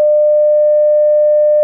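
A single steady pure 600 hertz school bell tone sounds continuously at an even, moderate loudness, starting and stopping abruptly with no other sounds.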